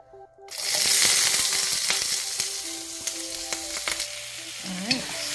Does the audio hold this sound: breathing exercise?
no